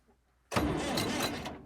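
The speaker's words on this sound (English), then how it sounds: "Of course it's going to start, it's the tractor." An old tractor engine starts on a cold morning, kicking in abruptly and running loud and rough close by for about a second before easing off.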